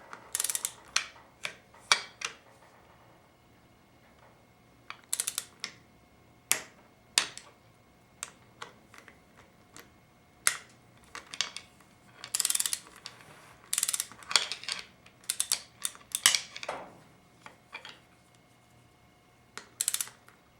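Torque wrench clicking repeatedly as transmission pump bolts are tightened to 220 inch-pounds during a 4L60E pump rebuild, a quiet ratcheting series of sharp mechanical clicks and snaps spread irregularly with no talking.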